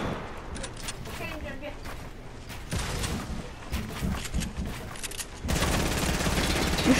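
Video-game gunfire from Fortnite crackles in rapid bursts and fusillades, loud and close at times, mixed with mechanical clicks while players talk over it.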